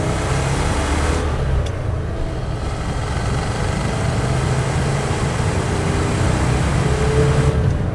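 A 1987 Ford F150 4x4 pickup with a 5.0 V8 and four-speed manual pulls up to cruising speed, its engine and road noise forming a dense, steady, loud roar heard from inside the cab throughout, with no talking.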